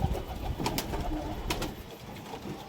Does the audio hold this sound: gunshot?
no